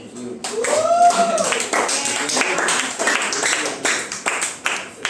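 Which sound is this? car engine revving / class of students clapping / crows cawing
class of students clapping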